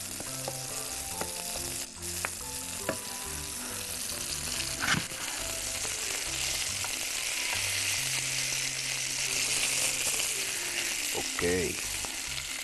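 Mushrooms frying in a pan, a steady close sizzle and crackle throughout, with occasional stirring scrapes and clinks of utensils against the pan.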